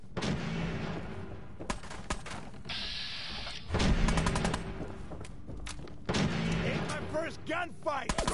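Gunfire in a Fallout 4 firefight, with a string of sharp shots and heavier booming blasts coming in several bursts over a steady game backdrop, loud and close.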